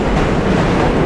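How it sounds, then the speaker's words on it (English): A subway train crosses a bridge in Brooklyn, New York City, producing a loud, continuous rumbling roar of wheels on the track that holds steady and close throughout, with no voices. "Man, these trains are non-stop. I didn't realize how busy this bridge gets."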